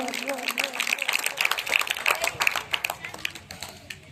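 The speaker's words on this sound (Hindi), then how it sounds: "और एक बेर जोरदार ताली यहाँ से बचा दियो।" Applause from an audience at a Gita festival honouring ceremony: a dense, steady patter of many hands clapping throughout, with voices murmuring underneath.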